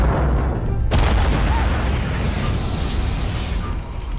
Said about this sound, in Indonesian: Bunker akhirnya meledak.